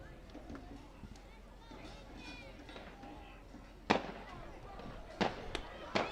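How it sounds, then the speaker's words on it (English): Fireworks go off near a ballpark during a collegiate league baseball game, with several sharp, distant bangs popping over crowd murmur, and a commentator talks throughout. "Some fireworks for a 2-2 count."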